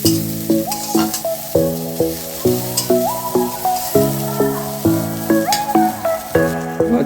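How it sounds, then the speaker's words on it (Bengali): Chopped onions fry and get stirred in a pan over low heat alongside a dried chili, a soft steady sizzle running beneath prominent melodic background music throughout. "দিয়ে দেবো কুচিয়ে রাখা পেঁয়াজ। এই সময় তাপটা কমিয়ে রাখবো বন্ধুরা, হালকা হালকা করে নেড়ে নেবো।"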